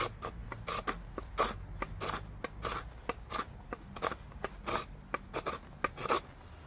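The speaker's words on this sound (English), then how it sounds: "it's going to be a lot harder initially to start scraping it out" Repeated rasping scrapes gouge out the charred hollow of a fire-hardened wooden survival bowl, a quick uneven run of short strokes close by with no voice.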